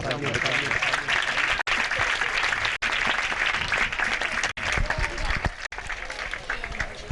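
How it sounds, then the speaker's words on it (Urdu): A church audience applauds the worship and sound team, loud, continuous clapping from a crowd filling the room, broken by a few brief dropouts, with faint voices beneath. "ساری ٹیم کے لیے میں چاہوں گا تالیاں بجا دیں۔"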